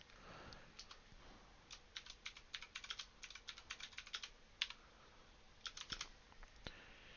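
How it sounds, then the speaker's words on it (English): Rapid keyboard typing in irregular bursts of clicks, close and clear, with short pauses between runs of keystrokes. "I'll clean up the typing later."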